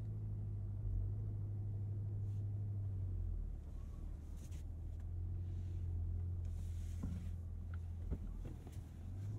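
Cadillac CT5-V Blackwing with its LT4 engine pulling away from a stop, a low, steady rumble of engine and road noise that stays fairly even, with a slight swell partway through and no talking.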